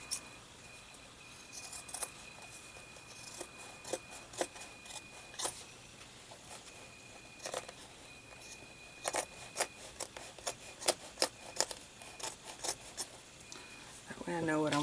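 Scissors snip along the edging of a Christmas-themed junk journal cover, giving short, crisp cuts at an irregular pace, close and fairly quiet, with a low steady background hum.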